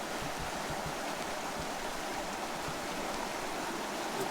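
A cold mountain stream rushes steadily during gold panning, a continuous close hiss and gurgle of flowing water with occasional soft splashes and no voices.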